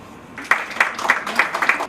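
A conference audience claps, starting with a few sharp hand claps and swelling into a short burst of rhythmic applause, fairly close and loud.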